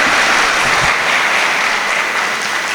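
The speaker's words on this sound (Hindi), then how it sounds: "आप सभी लोग एक बार ताली बजा के आदेश करिए" A college campus audience at MMMUT Gorakhpur bursts into loud, sustained clapping that fills the whole stretch evenly, a dense wash of many hands with no voices on top.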